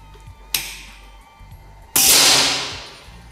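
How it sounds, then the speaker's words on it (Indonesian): An air rifle fires its sixth shot during a chronograph speed test: a sharp crack comes first, then a louder second burst that rings and fades over about a second, close by. "Nanti ini tembakan yang ke-6"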